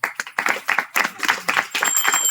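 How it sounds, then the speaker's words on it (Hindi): Clapping from a group of people at a Hindu wedding ceremony, sharp claps in quick uneven bursts filling the short stretch, loud and close, with no talk over them. "जोर से ताली बजाओ।"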